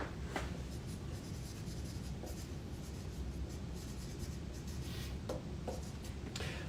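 An audience at a live motivational seminar writing with pens on paper: soft, scratchy strokes and a few brief rustles over a low, constant room hiss, with no talking.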